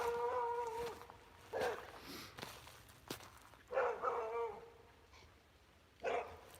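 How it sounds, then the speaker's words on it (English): A dog on an outdoor morning walk gives a few separate barks and whiny yips spaced several seconds apart, moderately close, with quiet ambient noise and occasional footsteps between them. "It's a dog coming here."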